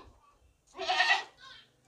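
A desi goat at a livestock market, alone in an unfamiliar spot, lets out a single loud bleat that rises and wavers, followed by a softer trailing cry against quiet surroundings.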